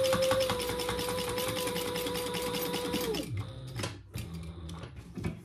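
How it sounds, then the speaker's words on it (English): A sewing machine stitches seams on a wristlet with a steady whirring drone for about three seconds, then winds down and stops, leaving faint handling clicks and rustles. "So I'm going to just do my stitching all the way up."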